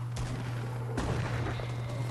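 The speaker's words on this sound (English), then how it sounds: "I can hear people shooting in Dusty. Shotguns." Shotgun fire in the Fortnite video game, two sharp blasts about a second apart, fairly close and punchy over a steady low game hum, with no talk.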